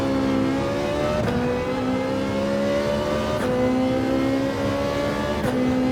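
Ferrari 458 Italia engine roaring in a racing video game, a loud sustained rev climbing in pitch with three quick gear-change dips, heard alone without speech.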